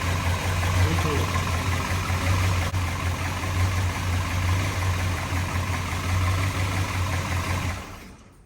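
A 1967 Chevrolet Biscayne with a big-block V8 idles close by, a steady deep burble with a low rumble that holds evenly for about eight seconds before cutting off.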